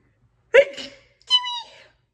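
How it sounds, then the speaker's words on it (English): A single sneeze close to the microphone: a short sharp burst, followed after a brief pause by a longer voiced exhale in a quiet indoor room. "I'm gonna sneeze, hold on."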